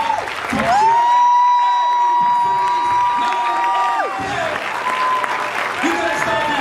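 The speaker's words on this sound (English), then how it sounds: "let's give this man a round of applause" A standing crowd applauds and cheers loudly, clapping mixed with whoops and shouts, while musical tones ring over the top.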